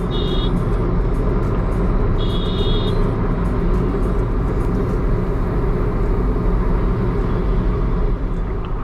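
A Tata Tiago XZA automatic hatchback drives along with its engine droning loud and steady inside the cabin, a continuous low rumble mixed with road noise and a couple of brief high electronic chimes.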